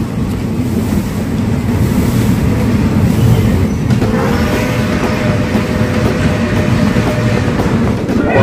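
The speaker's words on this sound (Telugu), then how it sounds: "ధర్మవరం రైల్వే స్టేషన్ డిపార్చర్ చూడండి ఫ్రెండ్స్." A train pulls out of Dharmavaram railway station with a loud, continuous low rumble of wheels and carriages, and a sustained squealing tone rises partway through.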